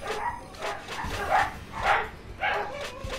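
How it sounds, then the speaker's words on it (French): Dogs barking in a series of sharp, moderately close barks, roughly every half second, with a few softer yips between them. "Pourquoi à chaque fois que je fais une vidéo, il y a les chiens qui aboient?"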